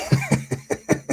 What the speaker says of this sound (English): Cough, yes.